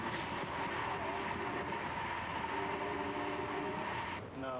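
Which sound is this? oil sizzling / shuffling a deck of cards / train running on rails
train running on rails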